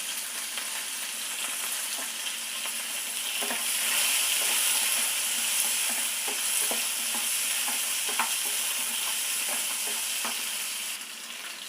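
Pumpkin pieces with the skin still on sauté in a pan, giving a loud, steady sizzle with occasional crackles and spatula scrapes that carries on for several seconds with no talking.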